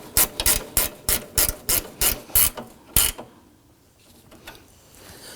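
A ratchet wrench snugs down the upper bolts on a 2005-2009 Subaru Legacy AC condenser, with about nine loud, evenly spaced clicking strokes over three seconds, then quiet shop background.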